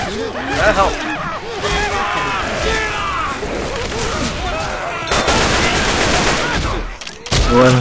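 Heavy automatic gunfire from the zombie shooter Left 4 Dead, loud sustained bursts of shots layered with game chaos, while players shout over the din throughout.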